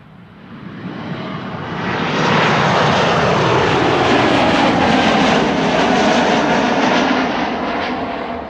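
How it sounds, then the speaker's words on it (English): A KLM Embraer 195 E2 jet airliner at Amsterdam Schiphol roars past close by, its engine noise swelling from a rumble to a sustained loud whine and holding there for several seconds. "Next E2 Embraer 195 is KLM flight 1151"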